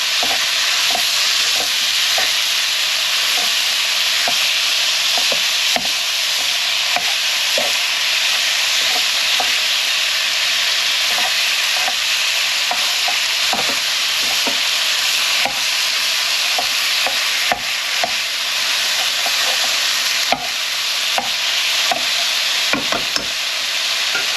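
Food browns and sizzles steadily in a frying pan for crispy pancakes, a dense continuous fry with frequent small crackles and pops and occasional stirring, close and loud with no talking.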